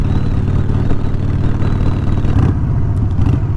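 A Triumph Scrambler 1200 motorcycle fitted with Vance & Hines Shortshots exhausts rumbles loud and close, a deep steady throb that swells slightly toward the end, with no voices.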